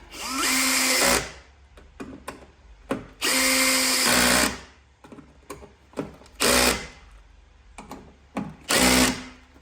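A power drill drives screws to refit a car door hinge on a Holden VF2 Calais: several loud whirring bursts of about a second each, separated by quieter clicks and handling noises.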